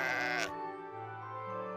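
A single sheep bleats loudly and harmonically for about half a second, then a quieter low drone continues in the background.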